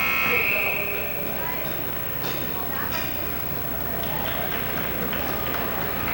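A 1980s high school ice hockey game buzzer sounds as a loud, harsh tone at the start, then fades into arena crowd noise and rink clatter beneath a commentator talking.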